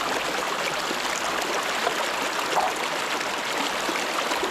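A river flows past a cassava planting plot in the Philippines, a steady, dense rushing and trickling of water heard close and unbroken, with no voices over it.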